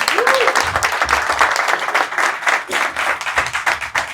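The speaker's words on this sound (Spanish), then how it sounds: "Un aplauso para Mariel." A small party crowd bursts into loud, dense clapping and cheering for Mariel, sustained for several seconds with a brief whoop near the start.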